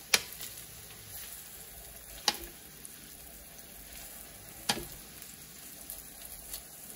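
Extra lean ground beef meatballs sizzle steadily in a pan at low level, with a few sharp clacks as they are flipped over.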